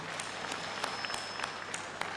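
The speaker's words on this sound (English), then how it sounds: "We need to give them a big clap." A crowd claps for clergy at a political party convention: faint, distant, even applause with a few sharper claps standing out, steady throughout.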